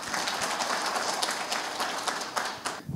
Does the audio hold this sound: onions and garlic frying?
no